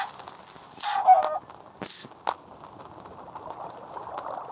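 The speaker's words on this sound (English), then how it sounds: "Oh, chicken." Video game chicken clucks in a few short bursts amid other game sound effects, fairly faint over a steady background.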